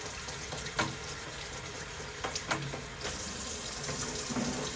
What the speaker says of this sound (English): put it under the water